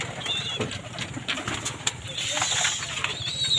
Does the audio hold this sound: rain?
no